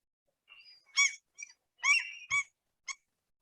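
A common gull gives a series of clean, high-pitched yelping calls, about five short separate notes spaced irregularly, fairly close and clear against a silent background.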